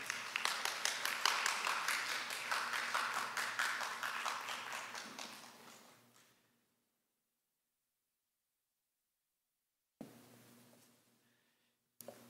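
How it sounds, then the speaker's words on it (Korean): A church audience at a winter worship revival claps to welcome pastor Kim Sung-sik, a brisk rhythmic clapping that gradually fades out, followed by silence and a brief later stir of sound. "박수로 환영해 주시길 바랍니다"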